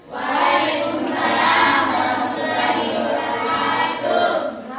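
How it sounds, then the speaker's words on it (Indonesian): Applause from a classroom audience for the kinesthetic group at an Indonesian school coaching session, a dense, sustained clapping that swells quickly, holds for several seconds, then begins to fade. "Dan itu kita beri aplaus untuk kelompok kinestetik"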